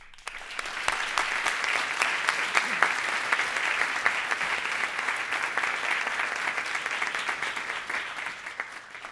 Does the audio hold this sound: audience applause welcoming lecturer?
yes